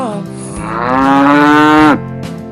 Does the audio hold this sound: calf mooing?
yes